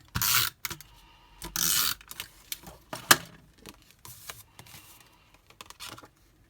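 Tape runner laying adhesive onto card stock for a handmade card: a few short rasping bursts with crisp clicks and taps in between, close and alone, with no talking.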